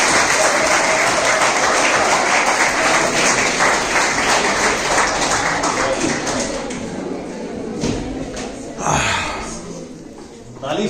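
Loud audience applause at a health talk fills the room, dense rapid clapping that gradually thins and fades, with a few thumps and voices near the end.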